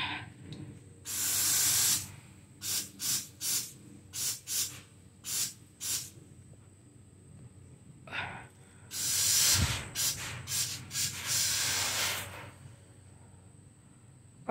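An insecticide spray can aimed at bald-faced hornets in the rafters lets out a series of loud hissing bursts, some long and several short rapid puffs, with quiet pauses between them.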